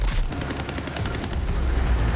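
Rapid automatic gunfire from a weapon in Borderlands 3, a steady dense burst of shots continuing for over two seconds, loud and close with no talking.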